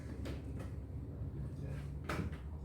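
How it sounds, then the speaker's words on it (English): A door is pushed shut in a room during a casual podcast chat, with a soft thud near the start and a sharper latch-like knock about two seconds in, over a low steady background hum. "I might do a little door close"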